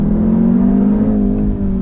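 A 2018 Jaguar F-Type P300 with a 2.0-litre four-cylinder engine drones steadily and loudly under load from inside the cabin, with a gruff, diesel-like tone and a slight rise in pitch.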